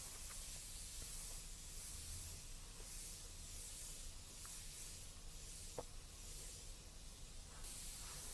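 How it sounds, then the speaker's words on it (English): An airbrush spraying dark base coat sealer at 40 PSI along masked paint edges gives a faint, continuous hiss, with a few soft clicks and one brief tap near the end. "And here I'm just killing the paint edges with base coat sealer dark."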